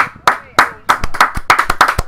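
Spectators clapping at a football cup final, about a dozen sharp, loud handclaps in a brisk, slightly uneven rhythm close by, with faint crowd noise between them.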